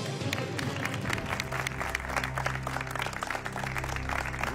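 Studio audience applauding on a Uruguayan quiz game show, a continuous crowd clapping over a loud musical underscore with steady low tones, heard at a distance.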